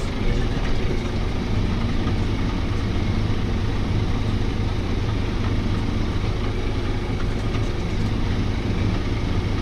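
An old tractor idles and runs in a field during reygrass harvesting, a loud, steady low diesel rumble heard from close up and continuous throughout, with no talking.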